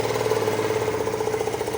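A Suzuki Lets 4 scooter engine idles close by with a steady, rapid mechanical putter and a faint rhythmic knock throughout.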